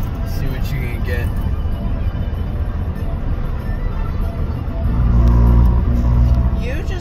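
A car on a road near a coastal military base, its steady engine and road rumble running throughout, swelling louder toward the end, with people talking over it inside the vehicle.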